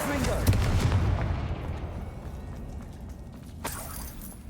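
A Confringo fire blast spell from the Hogwarts Legacy video game bursts with a loud, booming impact near the start, then a rumbling tail fades, with a second, smaller hit later on.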